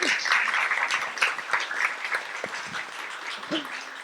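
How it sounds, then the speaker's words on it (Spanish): Audience applause at a book launch for the author, a dense round of hand clapping from a seated crowd, steady and fairly loud, then gradually thinning toward the end. "Un aplauso para nuestra autora también."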